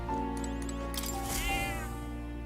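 A cat meows with drawn-out, wavering cries, loud and close, over a steady backdrop of video game music.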